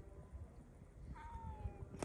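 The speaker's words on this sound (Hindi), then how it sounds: "बिल्लियां देखो कितनी साफ सुथरी हैं, ऐसे जैसे घर की बिल्लियां होती हैं।" A cat in Saudi Arabia gives a single drawn-out meow, moderately close, over a steady background murmur of outdoor noise.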